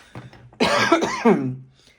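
A single close, loud cough burst with a rough throaty rasp, trailing off into a short exhale.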